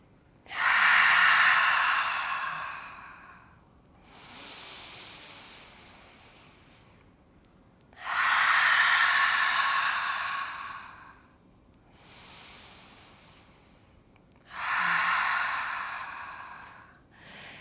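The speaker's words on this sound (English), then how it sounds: "A few deep breaths, a few deep exhales." Slow, deep breathing during a yoga relaxation pose, with three long loud inhales, each followed by a softer, gentler exhale, close to the microphone in an otherwise quiet space.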